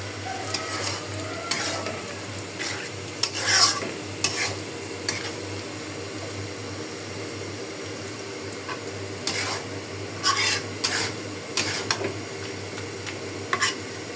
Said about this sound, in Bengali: দিয়ে দিলাম তেল, পেঁয়াজ আর গরম মশলা।